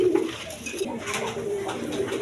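Racing pigeons and other fancy varieties coo in a busy loft, with soft throaty calls overlapping steadily and close at hand.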